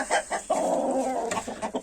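Ornamental hens and two lively roosters give a close, loud run of clucks and one drawn-out squawk. There is no talk over the calls.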